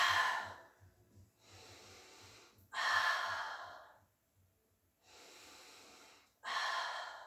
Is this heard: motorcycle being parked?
no